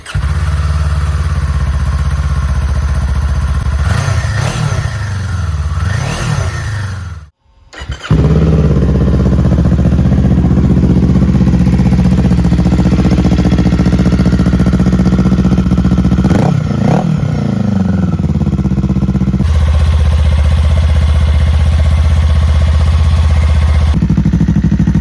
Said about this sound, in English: And there it is, the CS Racing exhaust for the Kawasaki Eliminator.